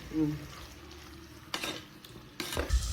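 Tomatoes and onions sauté in a pan for mutton gravy, a soft, low sizzle punctuated by two or three brief scraping stirs of a spoon close by.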